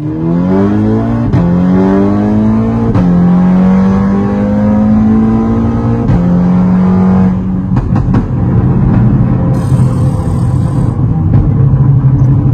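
A VW Golf 6R with a very loud exhaust accelerates hard through several gears, its engine note rising then dropping at each shift in a loud, close, continuous roar.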